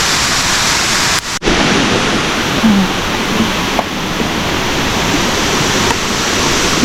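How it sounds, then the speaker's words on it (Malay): Steady, loud rush of falling water at the top of Kuang Si Waterfall in Laos, a dense continuous roar close by, briefly interrupted by a handling bump early on. "Sekarang kita berada di puncak Kuangsi Waterfall."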